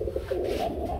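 A male pigeon coos nearby in a single short, soft, rolling burst.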